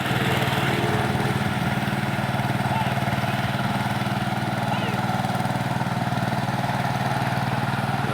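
A tractor engine ploughs a farm field, its steady, continuous drone running loud and close throughout with a constant low hum and no pauses.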